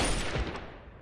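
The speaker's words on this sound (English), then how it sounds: "Damn, I'm shooting the wall for some reason." Gunfire in the post-apocalyptic shooter Fallout 3, a quick loud burst of shots near the start that decays into a fading echo within about a second.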